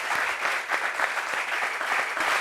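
A TV studio audience applauds a guest being introduced, a dense, even burst of many hands clapping at once, sustained and fairly loud.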